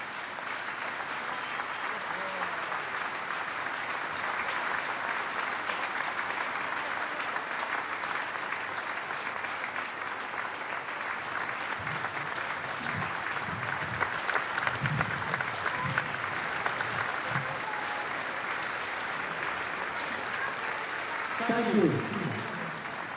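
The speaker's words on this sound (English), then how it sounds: "We ask you all to join us for a moment's applause" Crowd applause at an A-League football match honouring Rural Fire Service members, a steady broad wash of clapping sustained throughout at moderate level, with some low murmur and a brief louder swell near the end.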